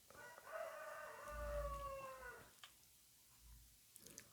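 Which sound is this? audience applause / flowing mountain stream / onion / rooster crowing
rooster crowing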